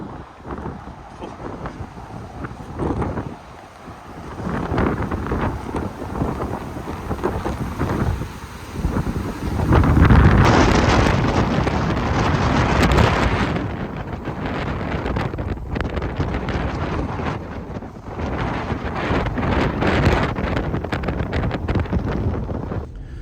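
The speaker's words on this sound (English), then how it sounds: "It's when it gets really windy." Strong gusty wind from a haboob dust storm in Arizona between Tucson and Phoenix roars and buffets the microphone, surging louder midway, with occasional voices faintly mixed in.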